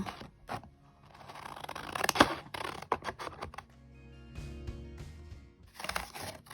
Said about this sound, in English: So then get some scissors and cut it out.